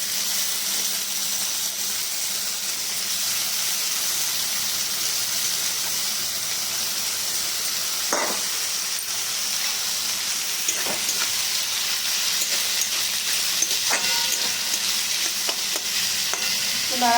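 Vegetables coated in salt and turmeric, with hot green chillies, fry in a pan. A steady sizzle hisses throughout, and a few brief scrapes mark the stirring, with no voices.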